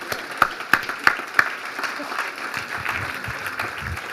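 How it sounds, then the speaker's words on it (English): At a healthcare innovation academy event, a few sharp, close claps ring out first, then a conference audience settles into moderate applause after a presentation, and voices murmur under the clapping. "I could tell you more about that when the applause starts, which is now"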